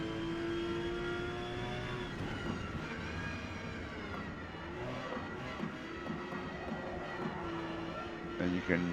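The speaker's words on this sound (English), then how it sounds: "The tires are squealing." Tires on a Porsche 911 GT3 squeal as the car slides around the Mugello circuit in Forza Motorsport, the worn rubber producing a sustained tonal whine over the steady engine drone throughout.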